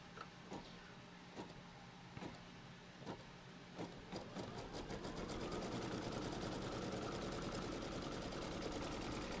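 A machine embroidery sewing machine stitches to tack fabric down in a hoop for a quilt, its needle ticking in a steady rhythm that quickens into a fast continuous whir, close and alone.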